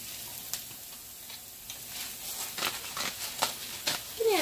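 Organic ground turkey cooking in a pan, a soft continuous sizzle with scattered scrapes and taps of stirring that grow louder toward the end.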